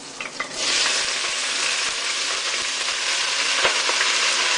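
Sliced Swiss chard hits a hot pan with cooked garlic and sizzles loudly and steadily, a dense close hiss with occasional small pops and stirring knocks.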